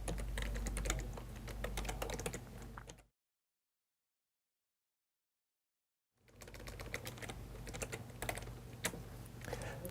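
Fingers typing on a computer keyboard while filling in email account details in Thunderbird: rapid, irregular clicking keystrokes up close, broken by a few seconds of complete silence before the typing resumes.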